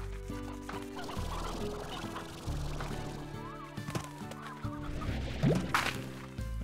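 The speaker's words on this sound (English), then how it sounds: "That's one chicken picked up." Chickens clucking in the video game Slime Rancher, repeated fowl clucks and squawks mixed over background game music and effects, moderately loud.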